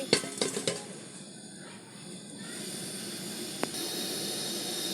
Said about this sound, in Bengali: কড়াই বসাচ্ছি